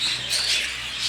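Pet birds at a home foster setup chirp and tweet in a dense, continuous chatter of bright high calls, close by and fairly loud, with no one speaking.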